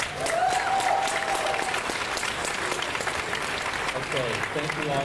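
A crowd at North Carolina Central University in Durham keeps up loud, dense applause for its new chancellor, with a few shouts and cheers mixed into the steady clapping and talk faintly underneath.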